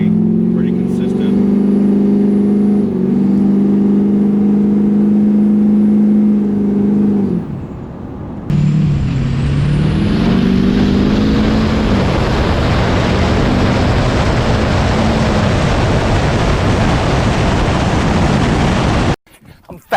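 An LBZ Duramax diesel pickup truck running on tune position 4 rolls into acceleration, its loud engine drone steady, then a brief dip before a harsher, broadband roar builds under load and cuts off near the end.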